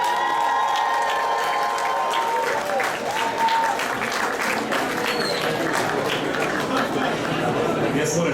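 A crowd applauds at the opening of a Primark store, with steady loud clapping, cheers and chatter throughout.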